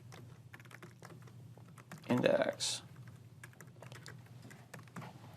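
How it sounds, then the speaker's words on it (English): Rapid typing on a computer keyboard during a coding session, a steady stream of soft close clicks with a brief louder burst midway as a voice speaks a word. "A lot of typing, but we don't want to hide anything from you."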